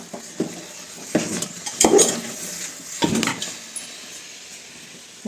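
An iron kadhai handled during cooking, with a few sharp metallic clanks and scraping knocks of a utensil against the pan at irregular intervals, close by, over a faint sizzle.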